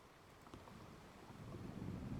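Stormy wind gusts and rumbles low behind a rattling outdoor ambience for a tabletop fantasy game, swelling louder toward the end with no voices.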